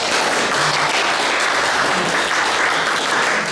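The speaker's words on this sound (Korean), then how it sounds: "우리 장창준 교수님을 큰 박수로 맞아주시기 바랍니다" A lecture audience breaks into loud, sustained applause to welcome a professor, dense clapping filling the room without pause.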